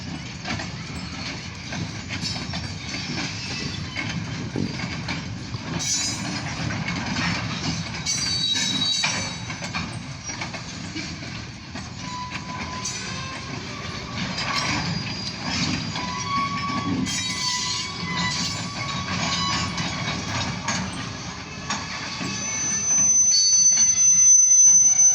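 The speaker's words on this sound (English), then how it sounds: "it's a long freight train right here" A very long OC&T freight train rolls steadily through the freight yard in Titusville, a continuous rumble of wagons with rhythmic wheel clatter and occasional metallic squeals, growing louder toward the end.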